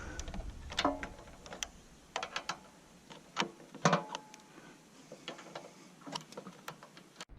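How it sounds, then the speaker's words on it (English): Metal screws are worked loose with an 8 mm tool near the bottom of a pressure washer, giving a run of light ticks and clicks with scraping in between. The sounds are close, spread unevenly through the clip, and come with no talk. "There's 2 screws here close to the bottom that I'm going to remove."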